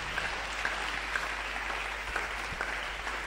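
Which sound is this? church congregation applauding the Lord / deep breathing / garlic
church congregation applauding the Lord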